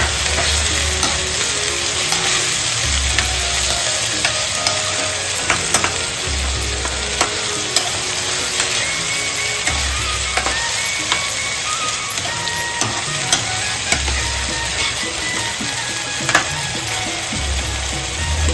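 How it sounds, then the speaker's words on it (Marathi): An oyster mixture stirred in a pan with a ladle over a steady frying sizzle, with repeated scraping strokes and soft clanks at a regular pace throughout. "मस्त पलीने तो सगळा मिश्रण आणि आपली कालवा एकत्र म्हणजे एकजीव करून घ्यायचा"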